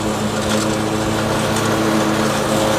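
Lawn mower running at full throttle on a residential lawn, a loud, steady close engine roar with a rough, gritty texture and no pauses.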